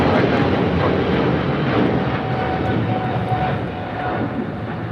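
A heavy airliner departs LAX, its engines a loud, continuous broadband roar that holds steady before easing slightly toward the end.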